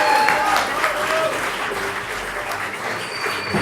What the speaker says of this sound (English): everybody give a round of applause to Shawn Carlow